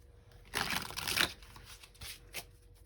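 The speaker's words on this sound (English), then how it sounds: "Let's get some tarot cards here." A deck of tarot cards being shuffled up close, a dense riffling burst lasting under a second followed by a few lighter card slides and taps, quiet with no voices.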